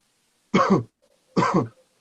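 Two short, forceful coughs with a brief pause between them, close and clear against silence.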